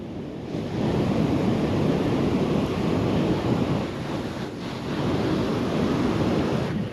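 Strong wind roars steadily across an open beach at Playa Las Peñitas, Nicaragua, mixed with the dense wash of ocean surf, a loud continuous rush with no pauses.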